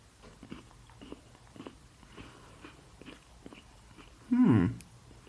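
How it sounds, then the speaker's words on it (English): Quiet chewing of Cadbury Screme Egg biscuits with faint crunchy bites, ending in one loud close crunch near the end. "for those who don't like the sounds of crunching or chewing or eating"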